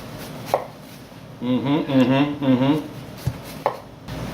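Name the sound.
knife chopping an onion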